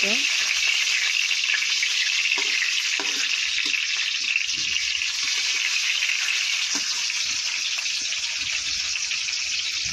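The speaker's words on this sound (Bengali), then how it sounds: "তারপর দেব টমেটো, দেব, টমেটোটা নাড়বো ভালো" Tomatoes sizzle and crackle in hot oil in a pan with a dense, even frying hiss, stirred now and then, close by and with no talking.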